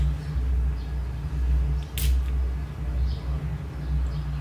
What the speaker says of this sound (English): I'm gonna go ahead and spray it again.